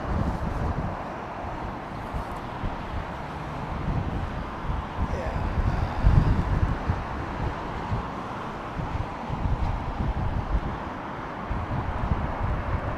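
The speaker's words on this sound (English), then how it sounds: "the wind stopped him from working" Strong wind buffets the microphone at London Heathrow Airport during Storm Lilian, a steady loud roar with gusty swells throughout, with voices talking over it.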